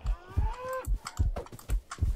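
A cow in the Minecraft video game gives a drawn-out low moo, followed by rhythmic soft thumping steps or clicks repeating at a moderate pace.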